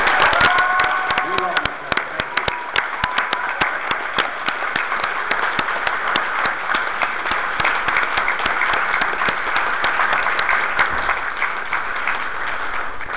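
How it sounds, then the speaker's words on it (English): At the closing ceremonies of the Penguicon 2012 convention, a crowd gives sustained applause with some cheering, sharp individual claps standing out from the mass before the clapping thins slightly near the end. "Give her a bigger round of applause."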